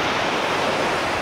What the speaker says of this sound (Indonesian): kita akhirnya sampai di Pantai Pasir Putih, Karang Bolong, pantai yang tidak seberapa luas, tapi masih natural pantainya